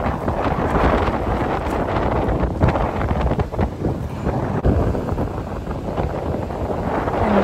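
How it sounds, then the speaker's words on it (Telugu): Strong wind blowing across a lake in Waterton National Park, a loud continuous rumbling buffet against the microphone with gusty surges, close and unbroken, with no voices. "మొత్తం గాలి అనమాట. గాలికి జుట్టు అంతా ఎగిరిపోతుంది"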